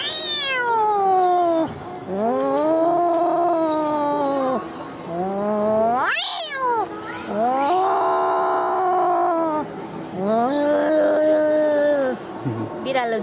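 A girl imitates cats fighting with her voice, producing long, loud, wavering yowls and howls in several drawn-out phrases, with a sharp screech in the middle, close to the mic.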